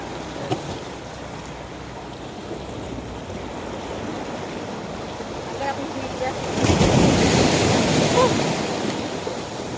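Strong ocean waves roll and wash onto the shore at Ternate, Cavite, a steady broadband roar with wind buffeting the microphone and a louder surge breaking near the end.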